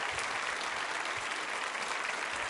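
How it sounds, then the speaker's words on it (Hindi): An audience at a women's tourism quiz show applauds in a steady, dense wash of clapping that stays even and somewhat distant throughout. "तालियां जोरों से बजाइए उनके लिए।"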